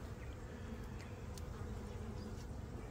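Honey bees humming densely inside a hive box with brood frames, a steady close buzzing drone with no pauses.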